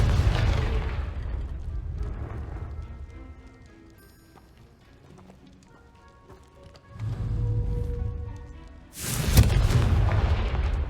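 The Confringo fire spell in Hogwarts Legacy goes off as a deep rumbling explosion that swells and decays, followed by a second sharp, loud blast near the end amid ongoing game ambience.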